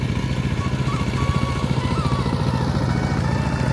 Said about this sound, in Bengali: power tiller